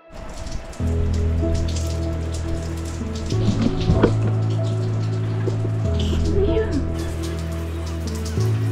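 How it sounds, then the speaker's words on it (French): Dense, steady patter of rain falling on surfaces nearby during a road trip on Quebec's Côte-Nord, sheltering by a van, with a low mechanical hum underneath and some faint background sounds. "il y a un énorme nuage de pluie qui arrive, il commence déjà à pleuvoir"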